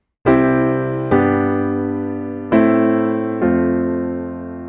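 Four piano chords played one after another, each struck and allowed to ring out before the next, forming a steady, familiar-sounding progression.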